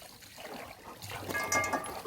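Tap water running steadily for a shower at home on a hot day, a continuous close trickle and splash that grows fuller partway through, with no talk over it.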